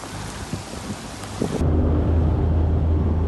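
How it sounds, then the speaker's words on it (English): Heavy rain and rolling thunder at sea aboard a sailboat, a steady low rumble and dense rain hiss that swells louder midway and then holds as a continuous close roar. "We got a lot of rain just now"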